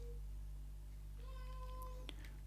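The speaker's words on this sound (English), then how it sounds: "Sorry for the cat in the background." A house cat meows in the background, a few soft drawn-out cries in the second half over a steady low electrical hum.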